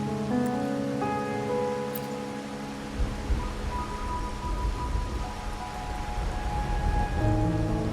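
Steady rain falls on a night scene in the video game Wuthering Waves, a dense hiss spread across the whole stretch with low tonal game music underneath and a brief thump partway through.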